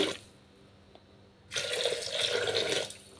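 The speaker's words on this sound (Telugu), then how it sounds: "ఇప్పుడు ఇందులోకి మనం ఒక టూ గ్లాసెస్ వాటర్ యాడ్ చేద్దాం" Two glasses of water run and splash steadily into a pot of sambar for over a second after a quiet start, then stop.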